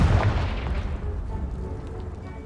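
Confringo blasting spell fired in Hogwarts Legacy, a deep booming blast that hits hard at the start and rolls off into a long rumbling decay with no voices.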